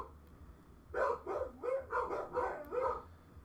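Dogs barking out in a hallway, a run of about six loud, yowling barks in an uneven rhythm after a quiet opening.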